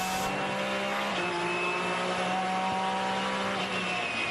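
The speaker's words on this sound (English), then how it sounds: "That unmistakable sound, though, of the Porsche engine that has won so many times, 20 times in all here at Daytona" Porsche GT class race car engine at the Daytona 24-hour race, a loud sustained high-pitched wail holding steady with slight pitch shifts as the car passes, heard alone without talk.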